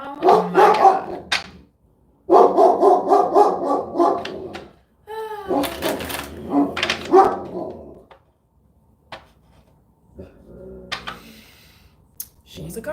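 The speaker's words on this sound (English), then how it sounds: "She's a guard dog." A guard dog barking loudly and close in several rapid bursts, separated by short pauses, with a whimper or yip near the end and a person's voice mixed in.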